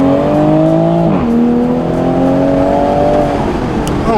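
A Toyota Supra with 81,000 miles, its engine humming loud and close while driving, the pitch dropping at a gear change and then climbing steadily again under acceleration.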